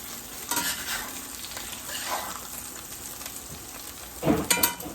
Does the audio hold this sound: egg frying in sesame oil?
yes